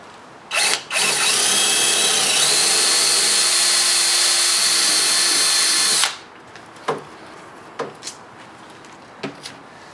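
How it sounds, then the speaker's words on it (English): A power drill boring a 5/32 hole for aluminum pop rivets while fitting aftermarket door panels on a 1973-87 Chevy C10, loud and close: a brief blip, then a steady whine for about five seconds, followed by scattered clicks and knocks. "And then drilling a corresponding 5/32 hole."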